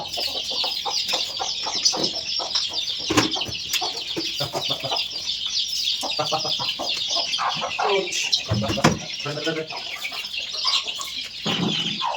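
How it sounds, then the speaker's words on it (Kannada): Several chickens cluck continuously nearby, with occasional louder squawks and brief wing flutters over a steady farmyard background. "ಎಲ್ಲಂದ್ರೆ ಅಲ್ಲಿ ಬಂದ್ಬಿಡ್ತಾವೆ ಕೋಳಿಗಳು"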